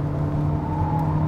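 A 2021 Hyundai Elantra Hybrid accelerates in third gear up a highway on-ramp, its engine a steady mid-pitched hum with a faint rising whine, heard briefly from inside the cabin with no talking.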